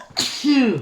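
A single sharp sneeze from a person in a children's museum, close and loud, ending with a short voiced tail.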